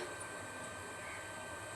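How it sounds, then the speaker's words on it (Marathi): A home washing machine's motor runs with a faint, steady, continuous hum and no other distinct sounds. "मोटर चालू आहे कपडे लावलेले मशीनला मोटरचा आवाज येतो तुम्हाला"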